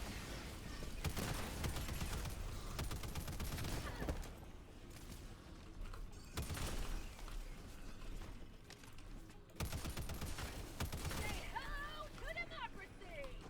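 Bursts of rifle and sniper fire ring out in Helldivers 2 during a fortress assault, repeated volleys and single shots under steady talk.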